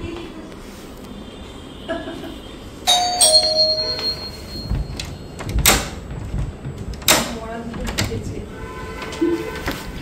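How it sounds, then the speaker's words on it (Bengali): A doorbell rings twice at a home where friends are arriving for a get-together, each ring a bright chime standing out over a busy room with faint background voices and clatter. "এক্ষুনি বেল বাজলো বলে।"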